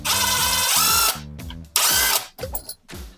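A power screwdriver drives the nylon nut on a toilet seat bolt, whirring in two loud bursts with ratcheting clicks and short pauses between.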